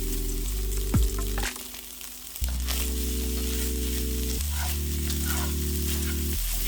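Rice fries in a hot pan with a steady, loud sizzle that runs throughout, broken by a brief clatter of stirring and a low tonal hum underneath.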